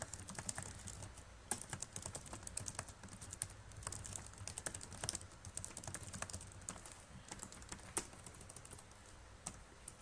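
Steady typing on a computer keyboard while working in WordPress, a continuous close run of quick key clicks with no talking.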